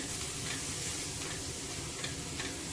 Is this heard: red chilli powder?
yes